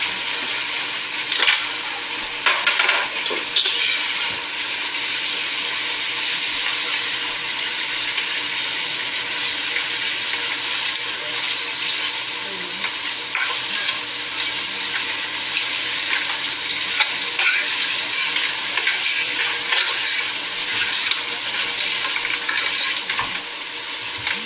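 French fries sizzling steadily in hot oil, a loud, continuous crackling hiss with occasional stirring clatter, close up and unbroken for the whole stretch.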